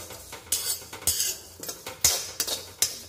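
Spoon stirring fennel seeds as they roast in a pan for an instant carrot pickle, with repeated scraping and clinking strokes against the metal, close and moderately loud.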